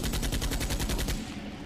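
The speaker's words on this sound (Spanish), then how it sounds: "quitando el seguro de su rifle, y abriendo fuego sobre la monstruosidad" Rifle gunfire as a sound effect, a rapid automatic burst of about a dozen evenly spaced loud shots that stops abruptly and leaves a short fading tail.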